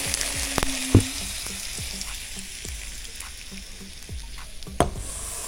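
Scattered sharp pops and crackles burst from mustard seeds over a steady sizzle of hot oil for a mango pickle tempering, close up, with a couple of louder snaps.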